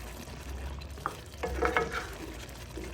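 A spoon stirs salt into waterleaf soup ingredients in a pot, giving soft scraping and wet swishing strokes close up over a low background hum.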